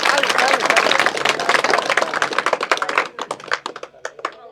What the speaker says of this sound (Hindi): ताली जोर से बजाओ